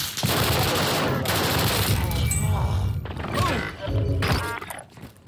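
Sustained automatic gunfire from the video game Call of Duty: Warzone rattles in dense, loud bursts, with shots and impacts crowding together and brief pauses between volleys.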